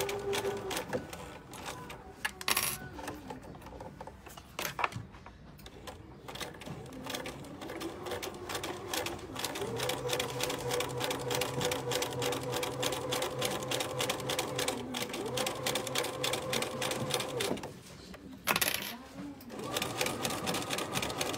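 A sewing machine stitches the lining of a pouch in long, rapid mechanical bursts with brief pauses between runs, close and steady, and someone speaks quietly now and then.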